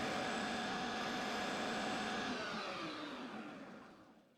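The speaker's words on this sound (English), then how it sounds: "I'll just give it a light facing cut." A CNC lathe takes a light facing cut on a piston, giving a steady, close whirring hum that holds evenly before gradually fading away at the end, with no voices.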